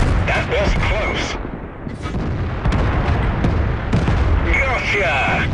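FV304 self-propelled artillery firing in a winter tank battle video game, loud booming shots with rumbling explosions over continuous battle noise, close and dense, with a voice talking over it.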